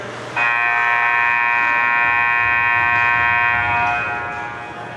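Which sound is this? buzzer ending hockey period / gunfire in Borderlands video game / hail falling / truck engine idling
buzzer ending hockey period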